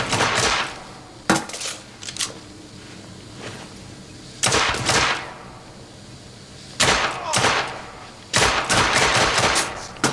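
Gunfire from the video game The Order: 1886 comes in several loud, sharp bursts of rapid shots separated by brief pauses, with no talking over them.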